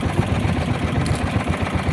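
Boat motor running steadily at close range on a river with floating debris and weeds, a continuous low droning rumble with no pauses and no voices.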